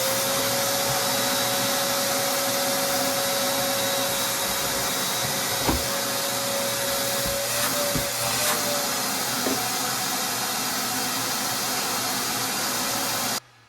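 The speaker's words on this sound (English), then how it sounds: "the only way I'm getting all this out is if I vacuum it" A vacuum cleaner runs steadily with a loud, constant whooshing roar and a faint whine, with brief knocks and rattles as dirt is sucked out of a Suzuki LT-80 two-stroke ATV, then it cuts off.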